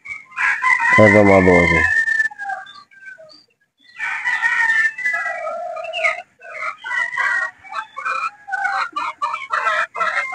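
Boston Roundhead stags and pullets on a farm: one loud, close rooster crow, then a run of clucks and squawks from several birds. Someone speaks briefly in the background.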